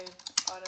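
Short burst of typing on a computer keyboard, a few quick light key clicks in an uneven rhythm, close and fairly quiet, with no voice.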